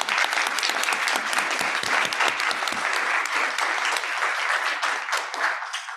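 Audience applause for a patient advocate at a hybrid cancer research group meeting: dense, sustained clapping from a large crowd, loud and steady for several seconds before tapering slightly at the end.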